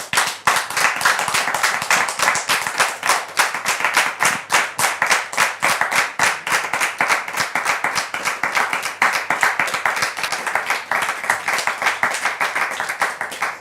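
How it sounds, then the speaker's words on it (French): Studio audience of a talk show claps steadily and loudly as a guest named Daniel enters, a dense, rhythmic stream of hand claps lasting over thirteen seconds without letting up. "sous vos applaudissements, le frère Daniel."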